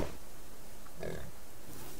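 A pig in the survival video game 64 Bit Subsistence gives a couple of short grunting oinks, close and clear over a quiet background.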